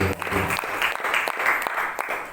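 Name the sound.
audience applause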